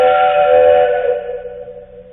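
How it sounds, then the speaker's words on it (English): A train whistle sounds alone and loud as one sustained multi-note chord that holds steady for about a second, then fades out over the following second. "Suppose I give you an audio file that records a train whistle"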